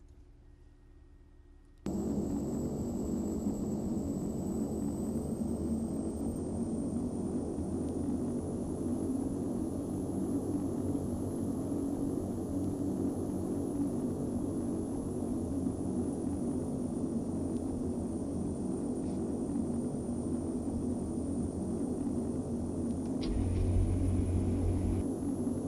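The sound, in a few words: aircraft engine in the flight simulator video game FSX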